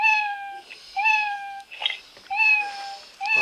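A cat meows in a video game: three clear, tonal meows spaced about a second apart with small rustles between, moderately quiet and with no talk.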